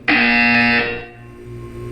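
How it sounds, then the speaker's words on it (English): Buzzer in the Portal 2 video game: a loud, harsh electronic tone that sounds for about three quarters of a second, then cuts off, leaving a quiet hum. "You will hear a buzzer."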